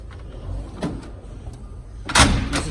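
Snap-on tool box drawer sliding open, a broad rolling slide with a soft bump near the start and a louder burst toward the end, close and fairly loud with no speech.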